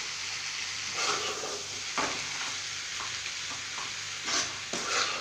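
Steady sizzling and crackling of lentils frying in hot oil, with occasional scraping stirs against the pan.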